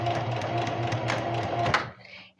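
A sewing machine runs a serger stitch under foot-pedal control, a close, steady mechanical whirring hum for about two seconds before it slows and stops.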